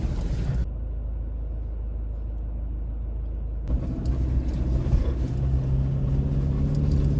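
A vehicle rumbles and labours along a rough off-road track toward Muktinath, its engine a steady low drone with bumps and rattles, the sound briefly muffled before returning fuller and closer.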